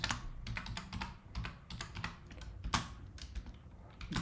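A command is typed on a computer keyboard in a quick, close burst of crisp keystrokes with uneven rhythm and a few harder key hits, with no talking.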